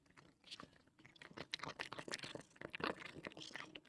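A cat crunching kibble treats up close indoors, quiet irregular bites and chewing crunches in quick succession with soft scraping between them.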